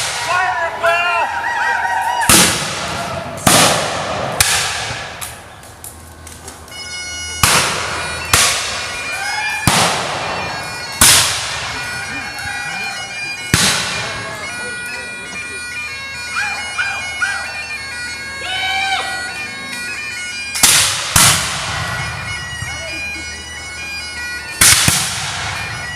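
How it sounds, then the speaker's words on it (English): Black-powder musket volleys from a historical battle reenactment firing line, a dozen or so sharp cracks scattered irregularly, some near and loud, others farther off, with shouted commands and voices in between. "Fire at will!"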